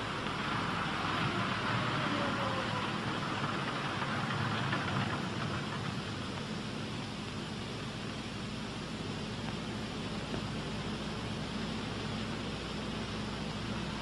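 Piston engines of a P-61 Black Widow night fighter winding down at shutdown after the mixture goes to idle cutoff, a steady broadband engine roar that stays loud and close throughout with no voices.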